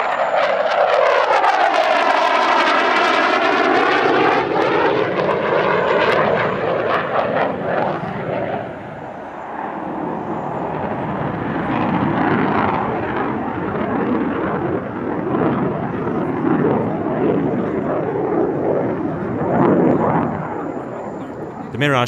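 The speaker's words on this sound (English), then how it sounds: "here's the Mirage 2000, the UAE now being the only nation on Earth to perform a fully aerobatic Mirage 2000 display" A Dassault Mirage 2000 jet flies an aerobatic display at the Dubai Airshow with a loud, sweeping engine roar that pitches down as it passes, then a long rumbling fade, while a commentator talks over it.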